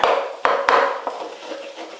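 A knife cuts up a fried egg mixture cooked on both sides, landing a few sharp, close taps against the pan at uneven intervals over a soft sizzling wash.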